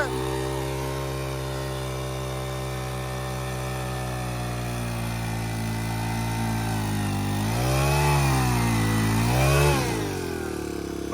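A heavy tractor engine, stuck with a loaded trailer in soft ground, drones steadily at idle, then revs up hard twice near the end before settling back.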